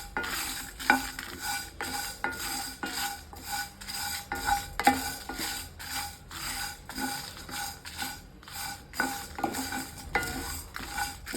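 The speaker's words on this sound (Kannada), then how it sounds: "ಇದೇ ಮೂಮೆಂಟಲ್ಲಿ ಕಬೇವಿನ ಸೊಪ್ಪನ್ನು ಹಾಕ್ತೀನಿ. ಅದು ಸ್ವಲ್ಪ ಫ್ರೈ ಆಗಲಿ" Curry leaves frying in a pan for turkey berry sambar while a spoon stirs them, giving soft repeated scraping strokes over a faint continuous sizzle, close and fairly quiet, with no talk.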